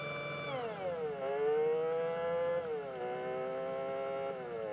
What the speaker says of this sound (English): pressing the button all the way to the right triggers the siren